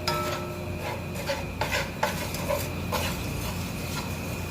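A spoon stirs curry chicken with scallions as it cooks down in a metal pot, with a run of close scraping strokes and sharp clinks against the pot over a faint background hiss.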